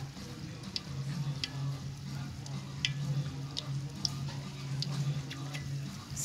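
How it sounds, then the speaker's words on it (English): Steady crackling sizzle of Ghanaian cheese frying in a hot pan, continuous and close, with small pops scattered throughout and no talking. "we are frying Ghanaian cheese, the sugar one"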